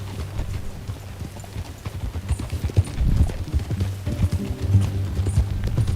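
Horse hooves trotting in Red Dead Redemption 2, a steady clip-clop rhythm of several hoofbeats up close, with tack rattling and a faint low engine-like hum beneath.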